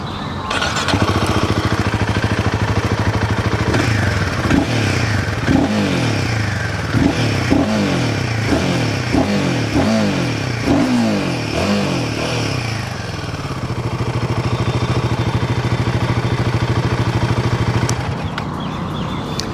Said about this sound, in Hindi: अब मैं यहाँ पर थोड़ा सा आपको इसकी एग्जॉस्ट साउंड भी सुना देता हूँ।